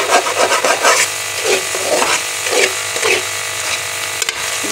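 Egg halwa frying in ghee in a pan, a steady sizzling hiss with scraping, rasping strokes of a spoon stirring the grainy mixture, close and continuous.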